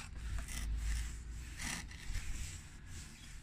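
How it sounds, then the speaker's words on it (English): Cloth rubbing over an oily Challenge Xtreme XSS40A lawn mower to clear oil residue, a close, steady scrubbing and wiping sound in several strokes with no talk. "just give this a bit of a clean, just to wipe it off, because there's a lot of oil around here"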